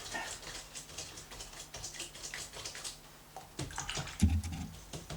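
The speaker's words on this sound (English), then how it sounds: "Right, wash the brush out." A paintbrush is swished and rinsed in water, giving faint sloshing and tapping patters that rise into a brief louder splash near the end, close by and alone.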